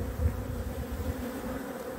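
A large honeybee colony in an open hive hums in a dense, steady low drone, close and continuous for two seconds, with no talk over it.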